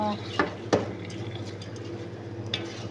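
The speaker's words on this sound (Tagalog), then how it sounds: "Haluin lang po siya." Potatoes and carrots being stirred in a pan with basmati rice for a kabuli dish, a couple of sharp utensil scrapes over a steady low kitchen hum.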